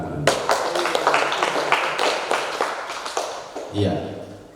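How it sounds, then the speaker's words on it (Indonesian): An audience claps in a burst of applause that thins out over a few seconds, then a voice starts speaking at the end. "Mari kita berikan tepuk tangan."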